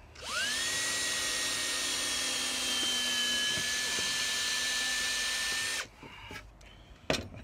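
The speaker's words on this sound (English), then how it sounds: "So let's make a couple of pilot holes." A power drill bores pilot holes into wood for a Halloween jack-o-lantern project, one long steady high whine running about five seconds before spinning down, followed by a few faint clicks and handling sounds.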